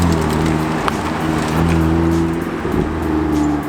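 A BMW M2 engine runs on a dyno, holding a loud, steady droning note close by with a slight waver partway through and no voices over it.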